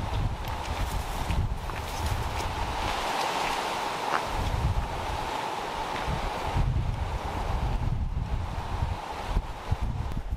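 Wind gusts across the open ground of the Longues-sur-Mer gun battery on the Normandy landing beaches, a continuous rough rumble and buffeting on the microphone that swells and eases throughout.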